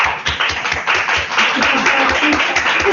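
Applause for Laura at the close of a stress-management videoconference: dense, steady clapping from several people, heard through a compressed microphone link, running for about three seconds.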